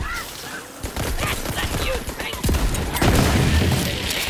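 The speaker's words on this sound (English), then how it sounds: "Ah, turrets. I think that's a turret." Turret firing in the Borderlands 3 video game during a chaotic battle: dense, rapid bursts of gunfire that grow louder midway and keep going, layered with other busy combat noise and faint voices.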